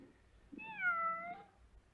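A cat shut in somewhere lets out a single drawn-out meow, faint and muffled as if behind a door, against a quiet low background.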